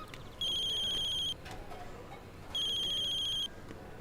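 An electronic telephone ringtone trills in two clear bursts of about a second each, separated by a pause, loud against a quiet room background with no talking.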